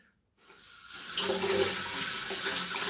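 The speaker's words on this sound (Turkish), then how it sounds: "Şimdi bir soğuk suyla durulayıp tıraş sonrasında yine bir tıraş sonrası kremle devam edelim" Cold tap water runs steadily into a sink for a face rinse after shaving, a close, soft splashing and hiss that starts after a moment of quiet.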